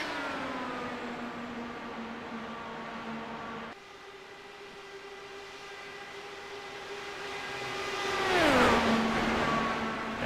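IndyCar race cars in a racing video game at a speedway, with a steady engine drone holding pitch, then a louder pass-by that rises and drops sharply in pitch near the end.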